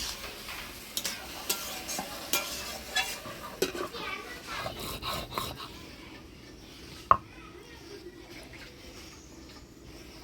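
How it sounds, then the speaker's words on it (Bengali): Katla fish curry with green chilies being stirred in a pot, giving scraping, clattering stirs and a light sizzle for several seconds before quieting down, with one sharp knock near the end. "কাঁচা লঙ্কা দিয়ে ভালো করে নাড়াচাড়া করে নিলাম"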